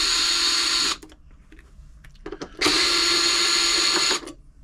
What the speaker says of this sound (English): Use the electric screwdriver on these,